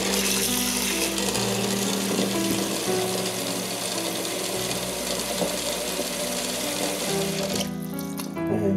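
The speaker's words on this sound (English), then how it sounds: "water is added" Tap water pouring into a pot of dried beans for lentil and bean soup, a steady loud gushing stream for several seconds that stops abruptly near the end, leaving clinks.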